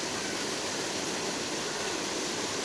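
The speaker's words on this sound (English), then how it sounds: "Stunning little waterfall in the middle of nowhere." A small man-made waterfall in Jesmond Dene park, Newcastle, roars as a steady, dense rush of falling water heard from a bridge close by, loud and unbroken throughout with no talk.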